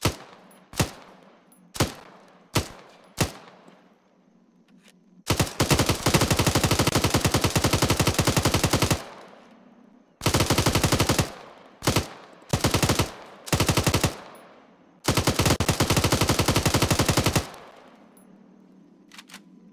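A 7.62mm belt-fed machine gun firing 1,000 rounds per minute in the Arma 3 video game: a few single shots, then long sustained bursts and several shorter rapid-fire bursts, loud and close with echoing tails.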